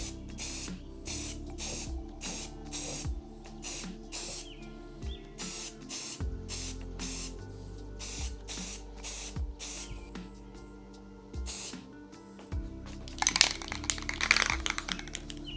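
A rattle can of spray paint hisses in a run of short, sharp bursts close to the microphone, with clicks and rattles of the can between sprays and a louder, denser spray near the end.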